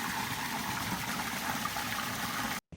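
Spring water trickles and splashes steadily at a named spring on Kozushima island, Tokyo, a close, continuous broadband wash with no voices, cutting off abruptly at the end.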